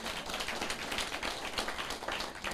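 An audience of attendees claps together at a Taiwan Civil Government senior councillors' class meeting, with dense, continuous applause lasting a few seconds.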